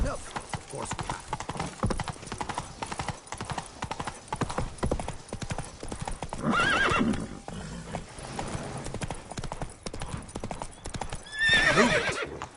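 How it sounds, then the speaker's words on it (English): Horse galloping and neighing in The Witcher 3 video game: rapid, close hoofbeats pound steadily throughout, with two loud whinnies rising over them, one midway and one near the end. "Run, Roach"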